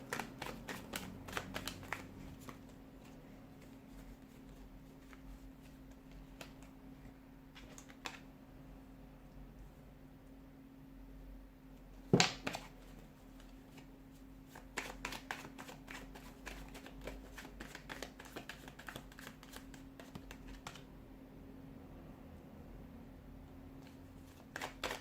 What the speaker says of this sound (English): we'll give the cards a shuffle and let's begin.